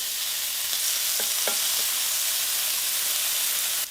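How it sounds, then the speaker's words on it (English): Eight chopped pieces of bacon frying over medium heat in a cast iron pan give a steady, close sizzle throughout, with a few faint stirring clicks near the middle. "you're going to add 8 chopped pieces of bacon"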